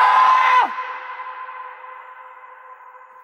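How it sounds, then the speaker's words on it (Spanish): A loud shout cuts off sharply and leaves a long echo trailing away, fading slowly over several seconds into quiet. "se escucha larguísimo el eco"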